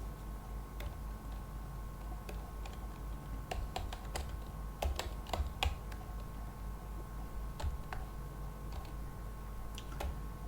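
Quiet tapping on a computer keyboard while C++ code is entered in Turbo C++, sparse irregular clicks in small clusters over a steady low hum, no talking.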